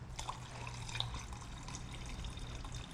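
White BMW car paint being poured while painting a BMW E30 with an M-Tech 2 kit, a soft liquid trickle and faint drips over a low steady hum, fairly quiet and continuous.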